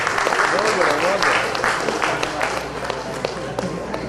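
An audience at a corporate business quiz applauds a team that finished tied fifth, with scattered claps and taps over a hall murmur, moderately loud and steady.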